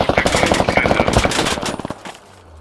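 Machine gun fire in the video game Squad: a rapid, loud automatic burst of evenly spaced shots lasting about two seconds, then cutting off into quiet.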